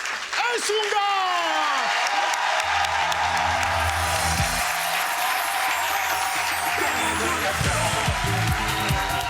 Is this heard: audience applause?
yes